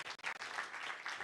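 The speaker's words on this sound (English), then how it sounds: "One more round of applause for this team." Audience applause at a live-streamed African Natural Capital Alliance event: a brief burst of scattered clapping that settles into a steady wash of hands, moderately loud and without talk.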